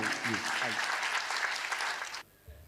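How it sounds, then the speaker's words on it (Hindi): Audience applause at a Hindi comedy poetry gathering, dense and steady for about two seconds before cutting off abruptly, with a brief voice surfacing at the start. "एक बड़े व्यक्तित्व के लिए बड़ी तालियां होंगी"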